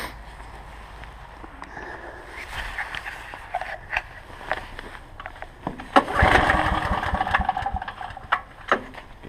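A Ridgid 5700 watt portable generator engine cranks and catches, rising into a loud, steady running roar after a few uneven pulls and sputters, with clattery mechanical bursts and no talk.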